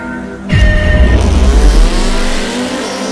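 A BMW M5 E60 and a Mercedes C63 launch for a quarter-mile drag run. Their engines burst into a loud, close roar that climbs in pitch as they accelerate hard, then ease to a sustained drone.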